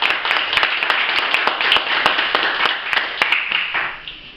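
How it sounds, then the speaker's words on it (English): An audience at a meeting breaks into applause, a dense run of close hand claps with sharp individual smacks that tails off toward the end. "So give her a clap."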